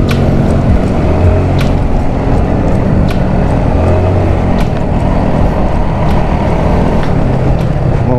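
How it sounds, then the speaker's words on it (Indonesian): Loud, continuous road noise from a small motorbike ride on a coastal road near Ujung Genteng, with steady low engine drone and wind rumble throughout and no speech. "Ada motor."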